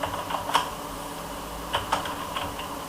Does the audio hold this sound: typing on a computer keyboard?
yes